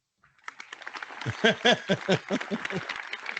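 A canned clap track on a morning show starts quietly and swells into a burst of crowd applause with cheering, loud and close, dominating the moment.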